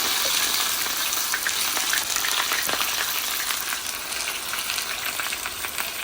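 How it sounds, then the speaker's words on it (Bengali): Meat sizzles steadily in hot oil with bay leaf and onions in a home kitchen, a loud, continuous close-up frying hiss with no talking. "দেখো মাংস কষছে"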